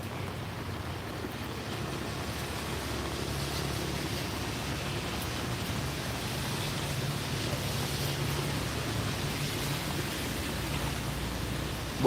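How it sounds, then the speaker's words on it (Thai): Rain pouring over Vientiane, Laos, a broad steady wash of noise that swells slightly over time, with a low rumble underneath and no talking. "ฝนตกลินที่เดียงจันทร์นะพี่น้อง"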